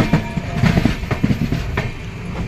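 A passenger train approaching Bhopal Junction runs along the rails with loud, close rhythmic clickety-clack of wheels over joints beneath a continuous rumbling roar, heard from inside the carriage.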